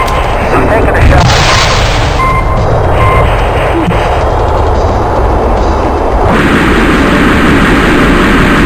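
A missile launches in the combat flight sim Fighters Anthology, a loud roaring whoosh over constant jet engine rumble that shifts in tone partway through, with a voice speaking over it.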